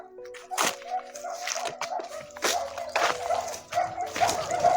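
Many village dogs bark in repeated sharp bursts, some near and some farther off, with overlapping yelps and a steady hum underneath.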